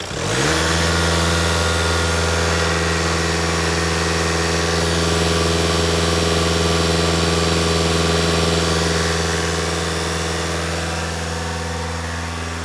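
A diesel car engine held at fast idle during DPF flushing, a steady droning hum with strong low tones that starts abruptly and holds constant, close and loud, easing slightly at the end.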